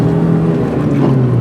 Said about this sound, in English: there's nothing like the sound of a supercharger in these old Minis